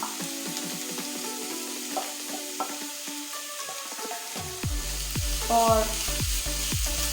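Beetroot dropped into hot oil with browned garlic, bursting into a loud, steady sizzle that swells as the pieces hit the pan, with scattered pops and crackles throughout.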